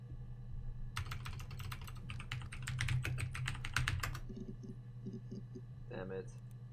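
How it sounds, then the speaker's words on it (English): Computer keyboard typing of search terms while playing the video game Her Story, a fast burst of crisp, close keystrokes lasting about three seconds, followed by a few quieter clicks, all over a low background hum. "We're just typing in random stuff now."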